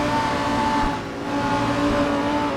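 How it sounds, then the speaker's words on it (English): A Lamborghini GT race car pushing hard in night qualifying at the Australian Grand Prix GT World Challenge, its engine a loud, steady high-revving drone that dips briefly before climbing again. "There you see the Lamborghini pushing on hard."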